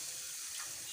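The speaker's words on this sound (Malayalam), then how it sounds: "വെള്ളം ഒഴിച്ചു." Water poured into a cooking pot (chatti) while making a tomato and drumstick curry, a brief, steady splashing pour heard on its own.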